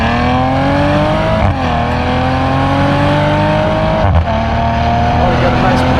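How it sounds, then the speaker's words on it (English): A Maserati Quattroporte sedan in sport mode with exhaust baffles open and manual shifting accelerates loudly from inside the car, its engine note climbing steadily and breaking at two upshifts with a brief pop. "let's see what this exhaust sounds like and how it goes"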